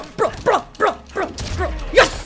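Dog barking in the Mortal Kombat 1 fighting game: a run of about five sharp, evenly spaced barks and yips, loud and close, over low game sounds.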